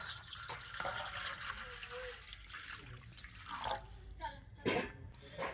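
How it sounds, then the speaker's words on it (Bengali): Water runs from a tap into a large kitchen bowl, a steady splashing stream that thins into drips and small splashes, with faint background noise. "এই বাটির মধ্যে আমি দিয়ে দেব জল"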